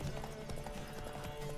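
Horse galloping during a race in The Witcher 3, a quick, steady clatter of hooves, fairly close and continuous under a soft background bed.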